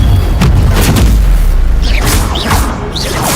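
Spell effects from the Harry Potter game Hogwarts Legacy, a dense run of loud booming bursts and whooshing magical blasts packed tightly together over a few seconds, with no pause between impacts.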